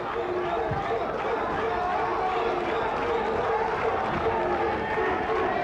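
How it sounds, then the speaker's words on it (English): Boxing crowd at a hotel casino fight at Wild Coast, KwaZulu-Natal, chanting and roaring, a steady dense wash of voices and clapping under a ringside commentator's talk. "you can hear the cries of boom, boom from the crowd"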